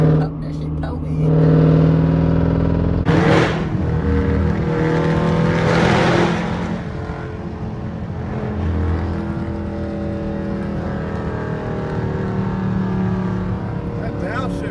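A Jeep SRT fitted with catless mid pipes revs hard and then downshifts with a loud, raspy engine roar that stays close and steady, while people talk over it.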